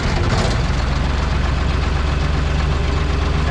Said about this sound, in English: You probably can't hear me anyways because the engine's running